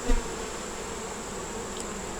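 Bees buzz steadily around an opened hive during an inspection, a dense, even drone close by with one faint knock near the start.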